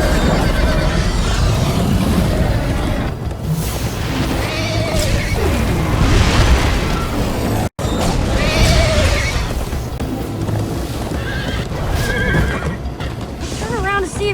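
Horse neighing and galloping in the Minecraft Story Mode video game, loud and continuous, with hoofbeats and several whinnies mixed with speech and a brief crash-like thud.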